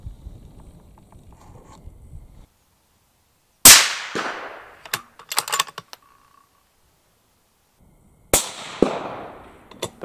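Rifle shots fired at a target while testing a Schmidt & Bender 6-36x56 riflescope, two sharp loud cracks several seconds apart, each followed by a brief echoing tail and scattered clicks, no speech.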